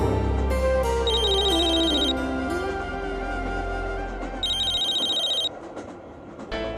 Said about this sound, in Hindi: पति का फोन होगा